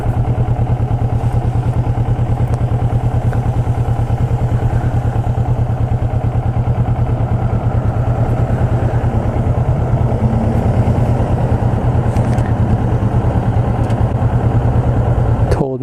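A Kawasaki Vulcan S motorcycle idling close by just after an oil change, a steady loud thumping twin-cylinder putter with even rhythm throughout.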